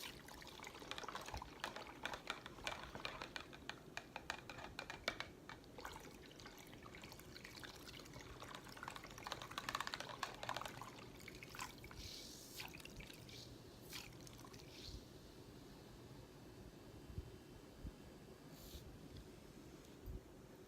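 Drips, splashes and a spinning whir of water as an electric makeup brush cleaner spins a soapy brush in a small container of water, close-up and fairly quiet, with no talking.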